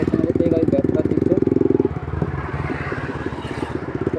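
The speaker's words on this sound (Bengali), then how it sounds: "গাড়ি ব্যাকটা দিচ্ছে।" A motorcycle being reversed, its engine idling close by with a steady, throbbing low rumble and light mechanical clatter, the pulsing tone easing slightly partway through.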